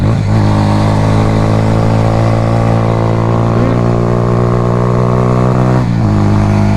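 A slow motorcycle ridden fast through curvy hills, its engine droning loud and steady close up with a strong low rumble, briefly dipping and recovering near the end as the rider works the throttle.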